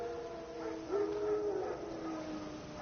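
Wild dogs howl in The Witcher 3: Wild Hunt, a faint, drawn-out tonal howl that rises mid-clip and fades into a second softer wail over quiet outdoor ambience.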